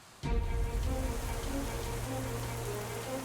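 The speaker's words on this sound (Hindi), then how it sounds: "हवा के झोंके, बारिश की बौछारें" Heavy storm rain starts abruptly and keeps falling steadily, a dense, even hiss of drops striking surfaces with a low rumble beneath, fairly faint and continuous.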